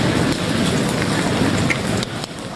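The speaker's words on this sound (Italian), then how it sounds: "Una violenta grandinata durata circa 15 minuti che lunedì sera si è abbattuta sulla laguna e sulla terraferma" Violent hailstorm pounding the Venice lagoon and mainland on an evening of lightning, thunder and wind: a dense, steady roar of hailstones drumming on surfaces, loud and continuous throughout, with no voices.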